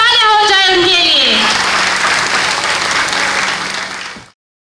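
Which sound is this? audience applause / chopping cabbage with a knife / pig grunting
audience applause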